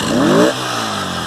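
A Yamaha Virago 250cc motorcycle engine with a freshly adjusted side carburetor revs up sharply, then drops back to a steady idle. It is close and loud, with no talk.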